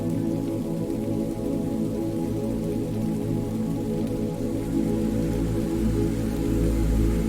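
Steady rain falls on a surface, with a dense, even patter of drops that holds at a constant level throughout and carries no voices.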